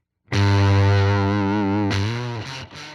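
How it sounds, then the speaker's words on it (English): Fender Hammertone fuzz pedal with the octave engaged, a single sustained distorted guitar note ringing thick and buzzy, then shifting pitch briefly before cutting off, loud and alone. "All right, we got this fuzz pedal. I got an octave on."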